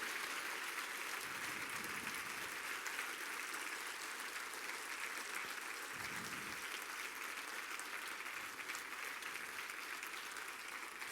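A church congregation gives sustained, even applause that lasts about eleven seconds, filling the room with no one speaking over it.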